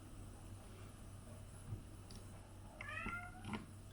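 A cat gives a couple of short meows near the end, soft and close, in an otherwise quiet room with low background hum.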